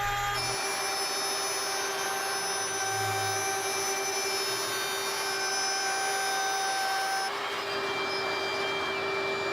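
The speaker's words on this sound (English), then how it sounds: "I'll route those channels using the same process, just using an 1/8 inch straight cutting bit." A router fitted with a 1/8 inch straight bit cuts channels into a guitar neck, a steady high-pitched whine running nearly unbroken at close range, with a brief change in tone near the end.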